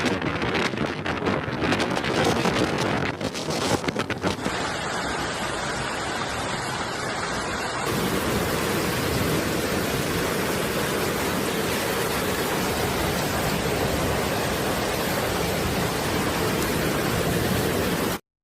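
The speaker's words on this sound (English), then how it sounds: "bringing with it heavy rainfall and hailstones roughly the size of soybeans" Heavy rain mixed with soybean-sized hail during a sudden storm in China, a dense, steady roar of pelting precipitation that stays loud and continuous throughout with no voices.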